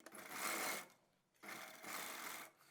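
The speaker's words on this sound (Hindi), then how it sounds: "यहाँ से लेके यहाँ तक हम सीधी सिलाई लगाएंगे।" Electric sewing machine running straight stitches on velvet pajama fabric, two steady whirring runs close up separated by a short pause.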